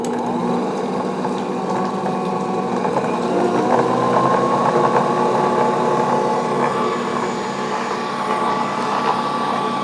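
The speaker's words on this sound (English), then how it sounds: "set the mixer on a medium, and we beat this butter" An electric stand mixer beats butter at medium speed, giving a steady, loud motor whir with a continuous mechanical hum that holds level throughout, with no voices.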